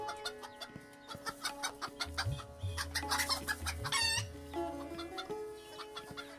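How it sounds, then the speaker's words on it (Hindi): Chickens cluck in quick, rhythmic bursts close by, with a sustained low drone and a brief louder squawk in the middle. "मुर्गियों की आवाज़ सुनकर"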